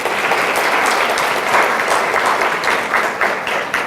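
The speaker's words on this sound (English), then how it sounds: "give her a big round of applause" A conference audience gives a big round of applause for a speaker introduced at a health panel, dense loud clapping sustained evenly throughout.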